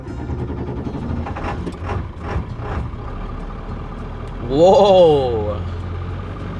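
A truck engine rumbles low and steady as it drives, with uneven surges that suggest bucking, while a man briefly exclaims partway through.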